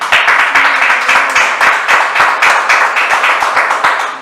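A church congregation claps steadily in a fast, even rhythm, loud and close, with no talk over it, keeping up for a few seconds.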